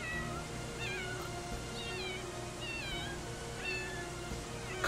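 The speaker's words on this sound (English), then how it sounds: "It's a kitty!" A cat in a video game meows repeatedly in short, rising-falling calls, spaced about a second apart, over a steady game music and ambience bed with no talk.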